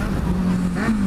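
A Kawasaki Z750 motorcycle accelerating on a straight, its engine note a brief, steady rising drone heard alone.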